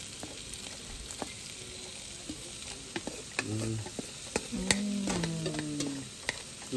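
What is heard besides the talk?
nopales added and stirred, frying in a pan with meat and red sauce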